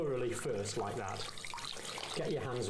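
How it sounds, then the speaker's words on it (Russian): Tap water runs into a sink while hands are wetted, a continuous splashing stream under a person speaking. "Вначале вы должны как следует намочить свои ладони."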